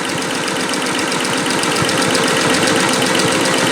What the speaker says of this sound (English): Sews real good. Making beautiful stitches.